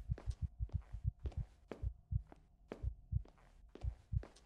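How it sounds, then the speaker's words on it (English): Heartbeat from the video game The Night that Speaks, a steady run of deep paired thumps close and alone, the double beats coming in quick regular succession. "And it seems like my heartbeat gets quicker."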